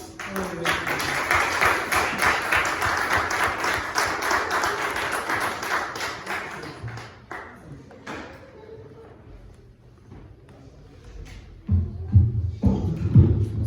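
Congregation applause during a Sunday church service, a steady crowd of clapping for several seconds that thins out into scattered thumps and shuffling, with a voice starting to speak near the end.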